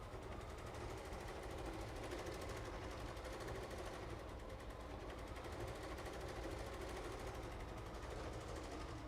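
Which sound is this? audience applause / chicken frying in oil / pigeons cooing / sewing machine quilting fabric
sewing machine quilting fabric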